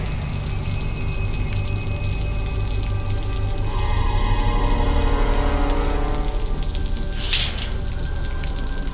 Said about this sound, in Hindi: अरे ये बारिश भी अचानक।